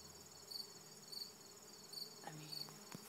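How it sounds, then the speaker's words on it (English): Bees buzz around a flowering bush outdoors, faint and fairly distant, with a steady insect hum and a few short repeating chirps over quiet surroundings. "The bees are just seriously doing their job."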